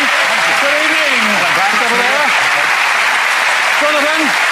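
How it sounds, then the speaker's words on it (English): Studio audience applause for a volunteer called up on stage at a televised magic show, steady dense clapping throughout with a voice talking over it. "A nice round of applause for Jonathan."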